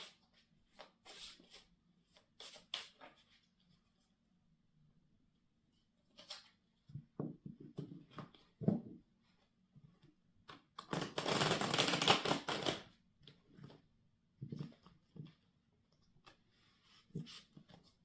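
Tarot cards being shuffled by hand in quiet bursts of riffling and flicking, some short and some longer, with a sustained dense shuffle near the middle and soft pauses between.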